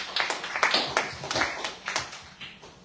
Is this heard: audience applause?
yes